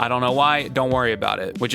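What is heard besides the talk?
No everyday noises stand out.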